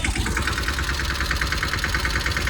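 Mini tractor engine running steadily at close range, a continuous low mechanical drone with a dense rumbling texture and a faint rhythmic knock, no voices over it.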